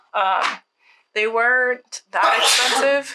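A person sneezes once, loud and close. Conversational speech follows right after.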